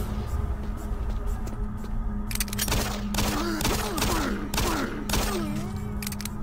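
Rapid gunfire in the shooter Doom 3, a dense burst of loud shots from about two seconds on, with creature growls and effects mixed in over a low droning ambience.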